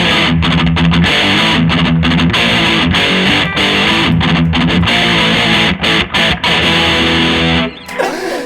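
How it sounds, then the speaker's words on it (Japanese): A mahogany electric guitar played through a hand-wired distortion pedal with a touch of reverb chugs loud, driven chords and rhythmic palm-muted stabs, with brief gaps before a final ringing note. "ちょっと歪み目でちょっとリバーブ。"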